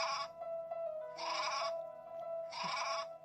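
Goats bleating in three separate loud, wavering calls spaced about a second apart, each close and clear against a quiet background.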